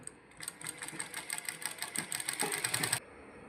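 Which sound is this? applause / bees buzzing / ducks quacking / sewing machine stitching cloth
sewing machine stitching cloth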